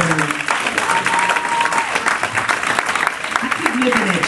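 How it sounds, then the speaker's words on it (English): A church congregation claps their hands together during a sermon, loud sustained rapid clapping filling the room from start to finish. "In Jesus' name, clap your hands."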